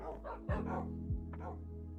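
Two sharp, close barks ring out from a Minecraft dog about half a second apart, each clean and punchy against a quiet game background.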